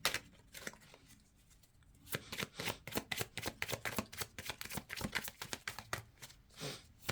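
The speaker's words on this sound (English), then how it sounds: "As I'm shuffling" Tarot cards are shuffled by hand in a quick run of crisp, papery riffles and taps that grow busier after a brief quiet start, close and moderately loud, with no talking.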